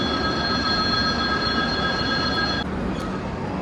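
A train at Mumbai Central railway station, heard as a dense, continuous rolling roar with a high, sustained wheel squeal riding over it throughout, loud and close with no talking.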